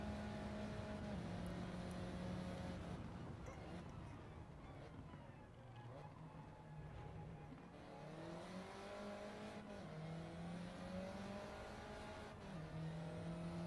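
The engine of an Alpine race car in Gran Turismo 7 drones fairly quietly, its pitch rising and dropping through several gear changes, with someone talking over the racing sounds.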